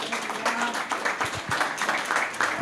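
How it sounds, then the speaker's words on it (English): A brewing club audience gives a standing ovation, with dense, steady hand clapping from a crowd filling the room continuously. "Standing ovation from the crowd."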